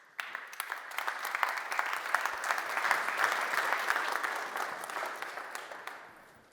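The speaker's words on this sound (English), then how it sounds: "So thank you very much for the warm welcome applause." Warm applause from a conference audience fills the room, dense steady clapping that swells quickly, holds, then tapers off toward the end.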